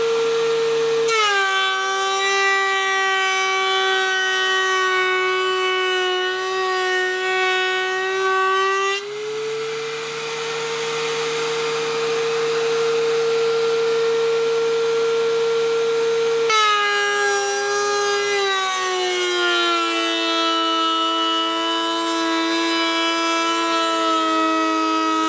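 A Dewalt DW735 thickness planer cuts wood with a loud, high, steady whine from the cutterhead that drops in pitch under load as boards feed through, in two long passes with a brief change between them.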